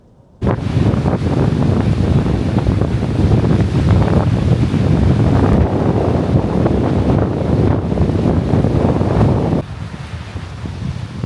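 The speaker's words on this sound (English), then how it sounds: "I'm sure y'all can hear how strong this wind is" Strong, freezing wind roars across an outdoor microphone as a loud, continuous rushing buffet, starting abruptly and easing slightly near the end, with no talking.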